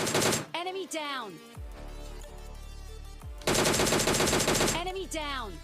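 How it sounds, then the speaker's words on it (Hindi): Bursts of rapid automatic gunfire in a battle royale shooter come loud and close, separated by a quieter ambient stretch, with whooshing, sweeping game effects between volleys. "और अब ये जो थी भाई एक रियल बंदे की गन शॉट्स की आवाज़ थी, जो कि बोट को मार रहा था।"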